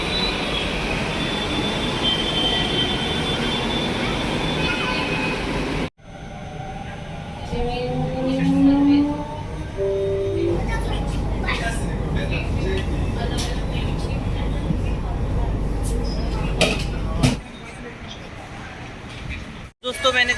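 Riding inside a Delhi Metro train: a continuous rumble of the carriage in motion with high squealing wheel tones midway, sharp clunks and shifts in level as the ride continues, and faint voices in the background.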